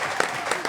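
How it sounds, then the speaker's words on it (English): Audience at a live podcast event breaking into applause, a short dense patter of many clapping hands, fairly loud and close, with no one speaking over it. "Please, a round of applause."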